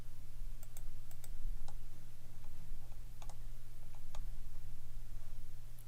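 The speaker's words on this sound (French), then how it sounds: "barre espace de mon clavier." Computer keyboard keys, including the space bar, are pressed in sparse, light clicks over a steady low electrical hum. Quiet and close, with no talking.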